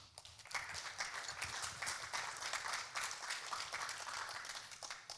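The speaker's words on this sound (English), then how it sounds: "Please join me in welcoming on stage Michael Van Baelen with a nice big round of applause" An audience at an AI agents summit applauds to welcome a panel speaker onto the stage: a soft, steady wash of many hands clapping, heard from a distance and sustained throughout.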